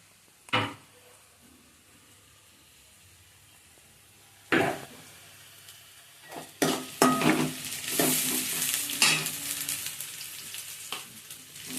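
Small onions sautéing in a pan for a Tamil fish curry (meen kuzhambu), quiet at first with a couple of sharp knocks, then a building sizzle and scraping stirs, close by.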